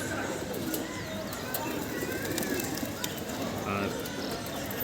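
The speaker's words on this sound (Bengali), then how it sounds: "এটা খুব ভালো একটা সিলভার কবুতরের বাচ্চা।" Pigeons coo in a sky pigeon loft that houses silver pigeon chicks, a steady murmur of soft calls blending into continuous broadband background noise for the whole stretch.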